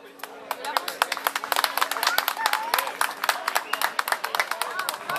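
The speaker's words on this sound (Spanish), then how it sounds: "Fuerte el aplauso entonces para Escobar Juan" Audience at a 2016 Reconquista coast and surubí fishing tournament prize ceremony applauds, a dense run of sharp claps for several seconds with a steady hum beneath and a voice talking over it.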